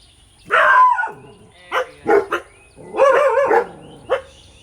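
A feisty dog gives several loud, close growling barks in uneven bursts, with short rough vocal rumbles between the sharper yaps and quiet gaps in between.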